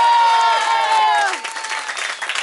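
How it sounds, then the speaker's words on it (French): Crowd at a charity run event for the cancer league at La Bâtie cheering and applauding loudly, with voices and a few whistles ringing over the clapping before it settles into a steadier, softer patter. "On s'applaudit encore."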